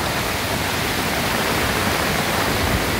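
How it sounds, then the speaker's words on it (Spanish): A swollen, near-overflowing river rushes in a loud, steady broadband roar that fills the whole stretch without a break, with no voices over it. "este río va tremendo"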